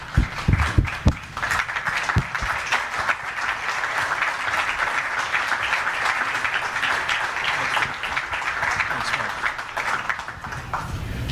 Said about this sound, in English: please help me in welcoming the 48th Vice President of the United States, Mr. Mike Pence.